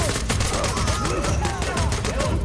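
Rapid gunfire from the tactical shooter game Ready or Not, with dense repeated shots and bursts filling the clip, loud and continuous with chaotic in-game noise underneath.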